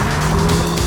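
A BMW M2, rear-wheel drive, heard as a loud, steady engine drone with a low hum and some tyre noise throughout a brief moment of driving, no voices.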